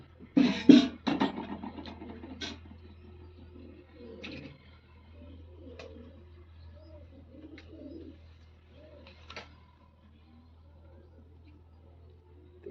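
Soft pigeon coos and wing flutters near the start as a pair of pigeons is released together, then quieter scattered bird calls over a steady low hum.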